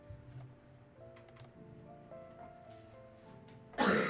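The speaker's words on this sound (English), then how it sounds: "I coughed." A single short cough bursts out near the end, loud and close, over quiet background music and light clicks while a Splatoon 2 match plays.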